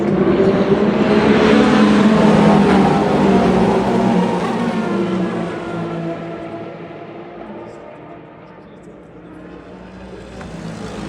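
Endurance race cars launch at the start of the 2025 TotalEnergies 6 Hours of Spa-Francorchamps, a loud engine roar that gradually fades as the field pulls away, under excited French commentary.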